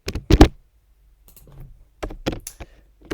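Computer keyboard keys tapped while editing Python code: a quick cluster of close, fairly loud clacks, then faint scattered taps, then another burst of several keystrokes near the end.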